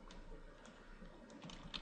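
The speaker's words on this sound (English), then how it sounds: "On the little search bar, you just need to type in mouse on that one" Typing on a computer keyboard into the Windows 7 search bar: a few faint, scattered key clicks over a quiet room hiss, with no voices.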